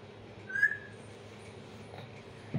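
A pet parrot gives one short, clear whistle near the start, fairly close, followed by quiet room background and a faint low thump at the end.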